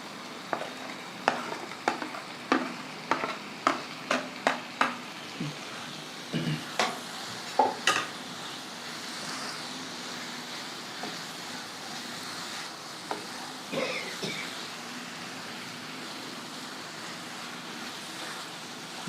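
Paneer cubes are stirred into a simmering masala for shahi matar paneer, with a run of sharp spoon-against-pan scrapes and clinks over a low, steady sizzle that then settles into a quieter fry.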